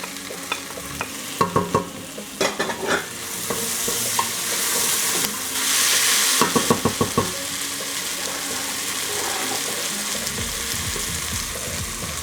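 Tomatoes stirred and sizzling in a frying pan, with a steady frying hiss throughout and bursts of scraping, clattering stir strokes near the start and again midway.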